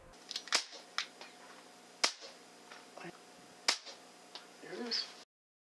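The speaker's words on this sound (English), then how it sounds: "We were shooting them at 10 yards with CO2 pellet guns." Several sharp CO2 pellet gun shots and metallic hits on resettable spinner targets at 10 yards, spaced a second or so apart, fairly faint, with a short rattle of spinning at the end.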